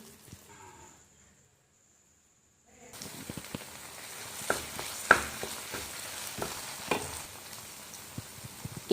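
Spiced brinjal gravy base with turmeric and salt sautéing and stirred in a pan, a steady close sizzle broken by scraping spoon strokes after a brief quiet opening.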